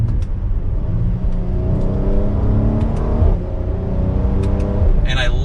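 A Mercedes-AMG GLC 43 4Matic in Sport Plus mode, its exhaust droning and revving steadily close by, with rising and falling engine tones and a few sharp pops near the end.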